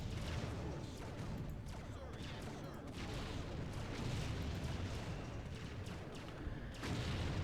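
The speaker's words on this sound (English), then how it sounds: "Oop, more artillery." Artillery fire in the Empire Earth real-time strategy game, a steady barrage of rumbling booms and scattered gunfire blending into dense, continuous battle noise with no clear pauses.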